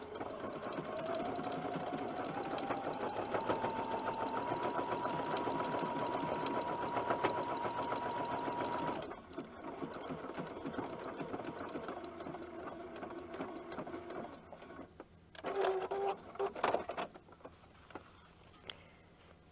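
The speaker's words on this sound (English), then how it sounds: "So see if your machine has a snowflake stitch if you're doing this by machine." A sewing machine runs a decorative snowflake stitch for a winter craft project, a steady close motor whir and needle patter for about nine seconds, then stopping, with a few short mechanical clicks and bursts afterward.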